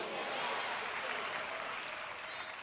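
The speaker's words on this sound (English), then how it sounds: "you know why that clap ain't that strong?" Audience applause at a talk, a thin, steady patter of clapping that holds evenly throughout, fairly weak and without cheering.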